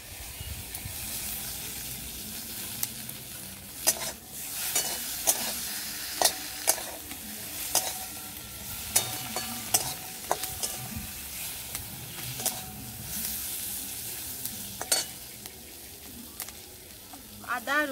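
Tomatoes stirred into a sizzling pan of jackfruit and shrimp curry in a village kitchen, steady frying hiss with repeated scraping knocks of the spoon against the pan, close and fairly loud.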